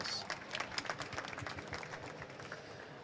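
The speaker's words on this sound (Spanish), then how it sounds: "solo os pido un aplauso para él que viene a presentarnos" At a tech conference session on Arduino, the audience applauds a presenter taking the microphone, a wash of many hands clapping at moderate distance that gradually thins out.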